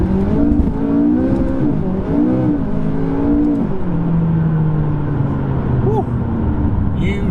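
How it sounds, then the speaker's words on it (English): A turbocharged McLaren sports car pulls hard under full throttle, its engine drone rising and falling in pitch through the gears. The loud, steady roar is heard from inside the cabin, with someone talking over it. "This car, when you put your foot down,"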